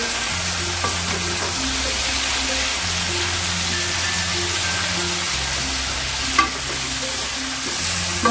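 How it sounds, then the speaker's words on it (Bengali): Chicken tikka pieces frying in a pan over high gas heat for butter chicken masala, a steady loud sizzle with a few sharp clinks of stirring, under a low background hum. "টিক্কাগুলো ভাজার সাথে সাথেই না এরকম করে চিকেনটা পুরো একদম সুসিদ্ধ হয়ে যাবে"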